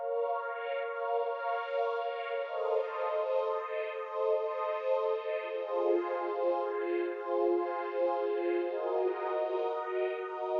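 A soft, sustained synth chord melody in FL Studio with an EQ-filtered, muffled, submerged-radio tone and washy reverb, playing steadily without any voices.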